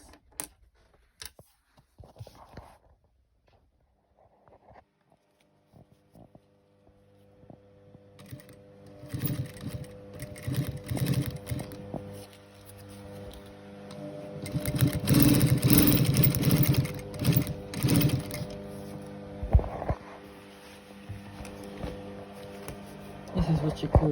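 A sewing machine stitching cushion fabric with a special presser foot runs in a rising motor whir, starting quietly and then running loud and close in sustained bursts after a near-silent opening.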